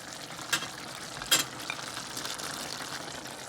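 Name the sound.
garlic frying with meat on stove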